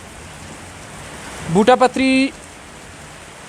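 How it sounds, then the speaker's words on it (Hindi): Heavy rain in Srinagar hisses as a steady broadband wash throughout, with a brief burst of talk in the middle. "इनके इलाके में भी ज़बरदस्त बारिश हो रही है।"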